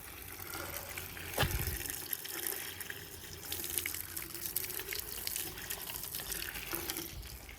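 Water running from a drinking tap at an outdoor picnic spot: a steady hissing, splashing stream, moderately loud and continuous throughout, with a brief thump early on.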